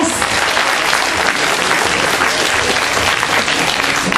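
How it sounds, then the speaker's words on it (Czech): Sustained applause from an audience at a Miss Krkonoše 2010 beauty pageant, steady and dense clapping filling the whole stretch without pause. "Tak prosím, potlesk pro Marka Stroceného"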